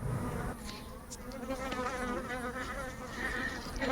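Honeybees buzz around a hive during a queen introduction, a dense, continuous, wavering drone of many wings close by, steady throughout with no voices.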